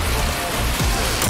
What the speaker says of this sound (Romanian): Mamă, plouă!